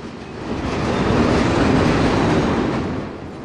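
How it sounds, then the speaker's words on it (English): A freight train of boxcars, with tank cars behind them, rolls past at close range. A steady, broad rumble and rattle of the cars swells into a loud pass, then eases slightly toward the end. "this freight train is pulling tank cars"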